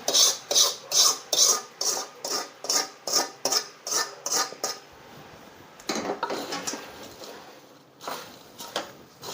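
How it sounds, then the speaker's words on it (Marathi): Crisp chivda snack is tossed and mixed by hand with hot oil poured over it, giving a rhythmic series of dry, rustling scrapes close by that slow and thin out into scattered shuffles. "चांगलं असं मिक्स करून घ्यायचं"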